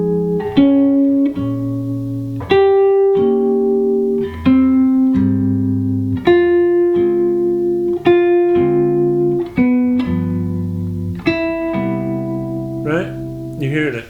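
Jazz solo outlining the thirds of each chord, a steady sequence of clear sustained melodic notes over low accompanying tones, each change landing in an even rhythm, played alone without talk.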